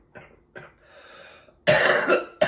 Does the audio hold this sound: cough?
yes